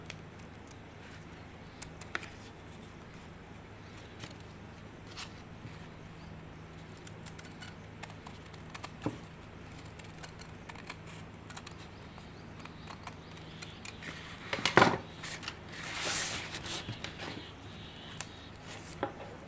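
Scissors cut a neck design into stiff buckram fabric, giving sparse, faint snips and crisp rustles, then a louder crinkling burst of handled material near the end, with no talking.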